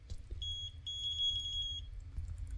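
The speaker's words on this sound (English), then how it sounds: "Just a lot of beeping." In the video game Apartament 1406, a thin high electronic beep sounds in a few short bursts and then a sustained tone, faint over a low rumbling background.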